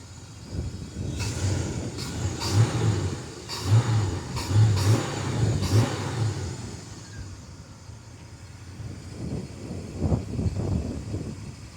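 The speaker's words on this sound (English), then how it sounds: "Take a look at that Pontiac V8 engine, 389 cubic inch." A 389 cubic inch Pontiac V8 engine in a 1965 Pontiac GTO rumbles nearby, rising in a few short revs before settling back to a deep, uneven idle.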